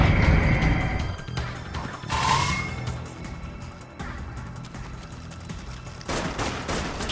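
Rapid rifle bursts and heavier launcher blasts from Dead Nation, a top-down zombie shooter, crackle loudly and continuously across the scene, with a few booming impacts standing out among dense gunfire and no talking.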